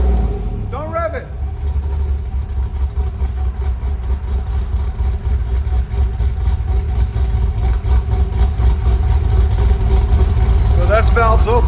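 A cammed GMC Sierra 6.2L V8 with headers idles loud and close with its exhaust valves open, a deep lumpy rumble holding steady throughout, with brief talk near the start and end.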